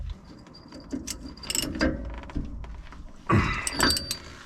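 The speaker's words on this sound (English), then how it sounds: "now we're going to torque it to 50 foot-pounds" A torque wrench tightens a nut to 50 foot-pounds during trailer repair, with quick ratcheting clicks, metallic clunks and mechanical rattles up close, ending in a louder burst of grinding and ratcheting, no talking.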